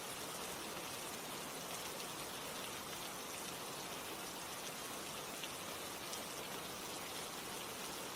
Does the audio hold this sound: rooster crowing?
no